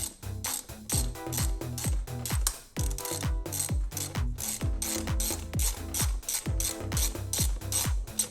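A ratchet wrench tightens a nut back onto the rear brake of a Kawasaki ZRX1200 motorcycle during a brake pad change, giving a steady run of close, sharp clicking strokes over about eight seconds with no talk.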